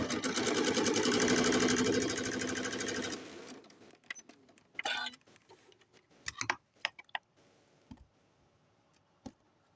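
A sewing machine stitches a doll chair cover in a steady rapid run for about three seconds, then stops, leaving scattered clicks and handling noises from fabric and tools nearby.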